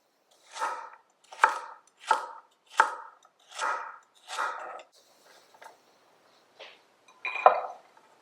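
A knife chops vegetables on a board for chicken noodle soup, six firm, evenly spaced strokes followed by a pause and a few lighter taps and one last louder chop, close and clear with no talking.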